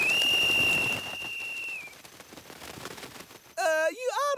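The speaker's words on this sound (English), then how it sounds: "You ought to blow the whistle more softly, Joe, just like Miss Betty said." A whistle in a cartoon sounds loudly with a long shrill steady tone, then fades; after a quieter stretch, warbling whistle-like chirps burst in near the end.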